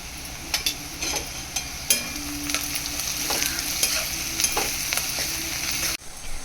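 Onion frying in oil with turmeric, asafoetida and salt, a close, steady sizzle broken by repeated scraping and knocking of the spoon as it stirs the pan.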